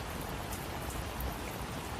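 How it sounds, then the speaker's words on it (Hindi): Heavy cartoon rain pours down in a dense, steady hiss of countless drops, loud and continuous with no voices. "बाहर बहुत तेज बारिश हो रही है"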